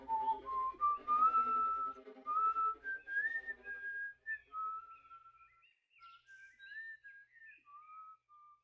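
A person whistles a slow melody alone, clear rising and falling notes in short phrases that grow softer and more broken toward the end.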